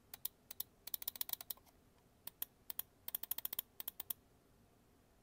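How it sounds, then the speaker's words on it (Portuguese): Buttons of a Dragonfly F1 gaming mouse click in quick, close bursts, sharp crisp ticks rattling off in rapid clusters with brief pauses, quiet surroundings and no talk. "os cliques são agradáveis e spamáveis"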